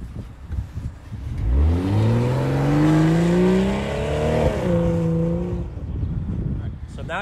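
A BMW accelerating hard in comfort mode with traction control switched off, the engine note rising steadily through the revs in one long loud pull before easing off, heard up close.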